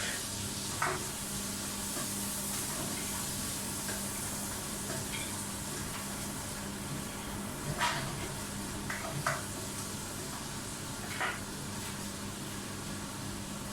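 Pork for menudo sizzles steadily in a hot pan, a constant frying hiss with a few soft clinks of stirring spread through it.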